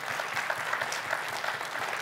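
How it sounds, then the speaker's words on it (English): A church congregation claps together in a steady round of applause, many hands blending into an even wash of clapping at a moderate, somewhat distant level with no speech over it. "But as we clap, I know we can praise God for the present"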